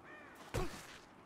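Single harsh bird caw in Rise of the Tomb Raider, one short loud call standing out over quiet game ambience.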